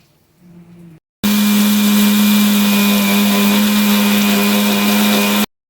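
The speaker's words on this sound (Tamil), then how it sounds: "வறுத்ததை நல்லா ஆற வச்சுட்டு அதுக்கப்புறம் ஒரு மிக்ஸி ஜாரில் போட்டு நல்லா ஃபைன் பேஸ்ட்டாக அரைச்சி எடுத்துக்க போகிறோம்." A kitchen mixer grinder jar whirs loudly as it grinds roasted cumin, pepper and fenugreek into spice powder for capsicum rice. The motor starts abruptly after a brief quiet rustle, holds a constant high drone for about four seconds, then stops.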